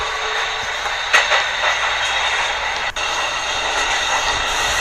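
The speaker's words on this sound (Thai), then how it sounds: "มันคือรถไฟอีกหนึ่งขบวนหนึ่งหรือเปล่าครับ" A train in a horror video game rumbles past in a steady broadband roar, with a brief sharp click and a short dip partway through; no talking.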